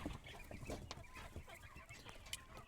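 Several roosters scratching for insects cluck and mutter close by in short, busy bursts over a faint farmyard background.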